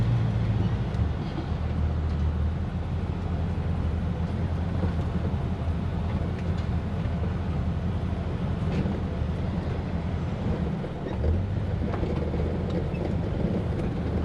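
A Chevrolet Nova Super Sport engine runs with a steady low rumble throughout, heard from inside or near the car at moderate level with a faint hum underneath and no talk.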